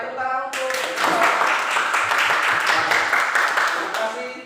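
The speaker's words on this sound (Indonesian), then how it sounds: "Oke, baik, tepuk tangan untuk" Students in a classroom applaud a classmate: a brief voice at the start, then loud, steady clapping from many hands close by that holds for several seconds before easing off.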